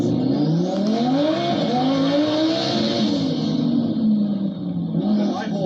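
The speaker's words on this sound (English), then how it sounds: "You finally got the turbo spool down." A twin-turbo Lamborghini Huracán engine revs hard and holds a steady, loud, close roar, with rising and falling harmonics and a hiss of turbo spool. A voice can be heard faintly under it.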